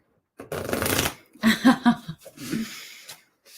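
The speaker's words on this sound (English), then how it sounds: "these decks are just really big and I can't shuffle them all at once" Oversized decks of cards being shuffled in a few bursts of riffling and rustling, close and fairly loud, with soft breathing between the shuffles.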